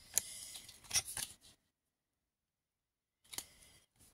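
Scissors snip through scrapbooking paper in two quiet, brief bursts of cutting, separated by a stretch of near silence.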